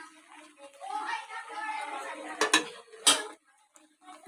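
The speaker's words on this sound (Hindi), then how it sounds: "सारे चावल हमने कढ़ाई में डाल दिए हैं। अब हम चम्मच से सेट करेंगे।" A spoon scrapes and clinks against a wok while drained, boiled white rice is spread out, with a few sharp metallic knocks in a village kitchen, under speech.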